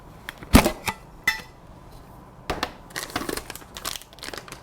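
A packet of curry powder crinkles near the mic as it is pulled out and handled, making sharp crackly bursts with a louder rustle at the start and a cluster of crinkles toward the end.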